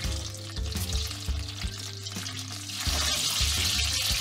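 Crushed garlic hitting melted butter in a pan, a close, steady sizzle over a low background hum, growing a little louder toward the end.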